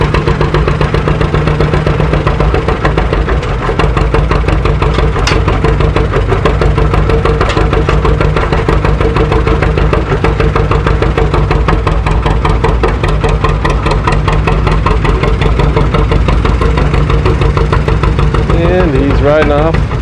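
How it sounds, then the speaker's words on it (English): An old John Deere tractor engine at a steam show runs loud and close, a steady low chugging idle with rhythmic knocking pulses that continues throughout. "Getting John Deere started."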